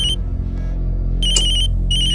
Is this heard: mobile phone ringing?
yes